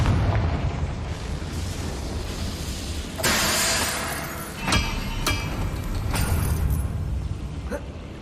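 Confringo blasting spell explosions in Hogwarts Legacy, with a sharp broadband burst near three seconds and further cracks and booms after it. They ride over a dense, steady game soundscape.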